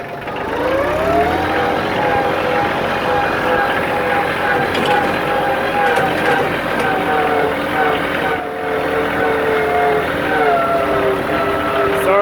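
Tractor engine droning steadily and loudly throughout while being ridden over a homestead grading site, with a constant tonal whine and no break in the sound.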